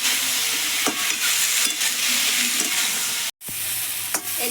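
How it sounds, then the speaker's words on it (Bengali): Small fish fry with turmeric powder and green tomatoes in a pan: a loud, constant sizzle with repeated scraping stirs, broken once by a momentary cut. "হলুদ গুঁড়ো আর কাঁচা টমেটোগুলো দিয়ে দেবো, দিয়ে একসঙ্গে ভেজে নেবো।"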